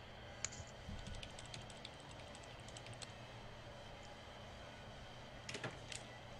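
Quick, faint clicks of typing on a computer keyboard come in short bursts over a low room hum, with no voices.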